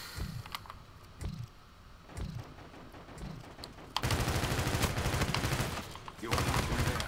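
A Vector submachine gun fires in Call of Duty: Infinite Warfare, first in a few short spaced bursts, then in a long, loud, rapid stream of shots with a brief break before a final burst.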